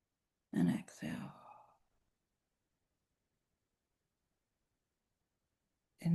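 A person exhaling slowly during a guided breathing meditation, one long soft breath out close to the microphone followed by silence and the start of another breath.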